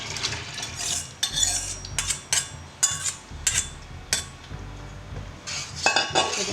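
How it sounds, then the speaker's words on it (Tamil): Metal spoon stirring basmati rice with coconut milk in a pot, scraping and clinking in a steady rhythm of repeated strokes, close and clear with no talk. "அதை நல்லா மிக்ஸ் பண்ணி வச்சுட்டு"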